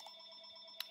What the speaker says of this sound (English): oh my gosh, the phone's ringing.